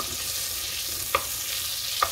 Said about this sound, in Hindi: गैस ऑन करके जब बटर मेल्ट होगा तो इसमें लहसुन को जो है मैं तकरीबन लाइट ब्राउन करूँगी।